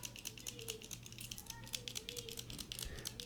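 Rapid small plastic clicks and rattles, like a mechanical pencil being clicked and fiddled with, close up, over a steady low hum.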